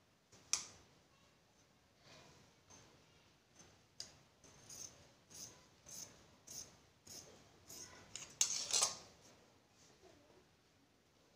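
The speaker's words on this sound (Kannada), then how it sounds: "टू लेयर्स ತಗೊಂಡು ಇದು ಒಳಗಡೆ ಇದೆಲ್ಲ ಆ ಶೇಪ್ ನ ಕಟ್ ಮಾಡ್ಕೋಬೇಕು" Scissors cut through two layers of cloth for a chudidar top, giving a quiet, close series of crisp snips at a steady rhythm, with a sharper burst of cuts near the end.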